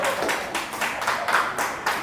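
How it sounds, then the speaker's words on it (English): An audience at a community event gives a round of applause, sounding as a short burst of close, fairly loud hand claps with no one speaking. "Please give them a warm round of applause."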